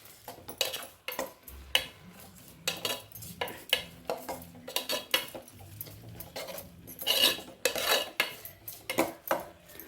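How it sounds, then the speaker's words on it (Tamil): A spoon scrapes and clinks against a pan while beetroot pachadi is stirred, giving a steady run of close, sharp metallic knocks and scrapes. A faint sizzle sits underneath, and no one speaks. "ஒரு 2 நிமிஷம் நம்ம இப்படி இலக்கி கொடுத்துக்கணும்"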